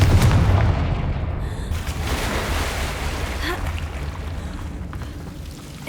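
A Confringo fire spell blast in Hogwarts Legacy bursts with a loud, rushing boom that slowly fades into a rumbling wash with a faint crackle.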